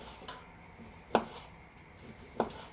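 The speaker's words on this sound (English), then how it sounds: "So I'll chop some of that up." Pizza toppings are chopped with a kitchen knife on a board, three distinct sharp knocks spaced about a second apart, close and clear in an otherwise quiet backyard with no speech.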